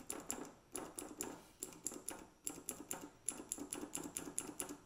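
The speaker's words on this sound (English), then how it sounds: "Cherry MX Green is firm, tactile, and clicky with 80 CN of actuation force." Cherry MX Green mechanical keyboard switches being typed on, a rapid run of sharp, crisp clicks in uneven bursts, close and clear with no talk.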